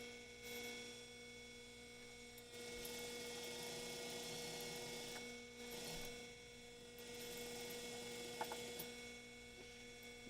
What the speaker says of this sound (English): now I'm going to sew it up starting at the shoulder seams